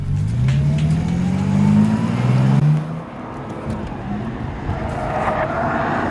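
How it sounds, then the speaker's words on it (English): A Bentley Continental Supersports drives hard on the Nürburgring, its engine loud and near as it revs up through rising gears, then eases off to a lower, quieter drone as it shifts. "driving this new extreme Bentley around this phenomenal track."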